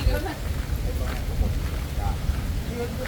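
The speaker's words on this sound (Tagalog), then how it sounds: "Yan ang ulan." Heavy rain with wind during outdoor cooking, a dense steady hiss and patter close around the microphone that fills the whole stretch.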